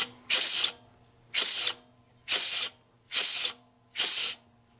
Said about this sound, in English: Alright, so here's my blow nozzle.